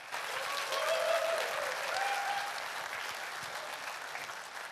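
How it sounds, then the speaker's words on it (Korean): An audience claps steadily throughout at a broadcaster's 50th anniversary vision ceremony, a dense, fairly loud applause with a faint voice briefly audible within it. "큰 박수 부탁드립니다"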